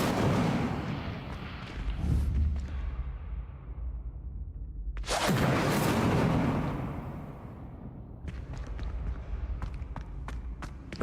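Incendio fire spell cast in Hogwarts Legacy, a sudden roaring whoosh of flame that swells and fades, following earlier rumbling blasts, then quieter footsteps and crackling clicks afterward.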